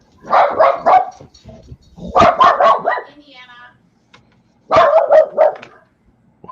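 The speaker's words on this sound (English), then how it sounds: "There's a couple of dogs just going absolutely nuts outside" Several dogs barking outdoors in agitated bursts, three clusters of rapid barks with pauses between, fairly close and loud, with faint background noise.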